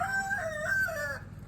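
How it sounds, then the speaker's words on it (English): A rooster crows close by in a village in remote Indonesia, one clear drawn-out cock-a-doodle-doo lasting just over a second, then fading into quiet background. "And a beautiful rooster."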